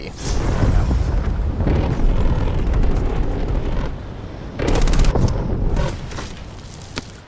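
A grenade explosion and strafe run in Call of Duty produce loud, low booms and rumbling blasts, with a sharp burst of rapid impacts midway. Heavy game audio continues throughout.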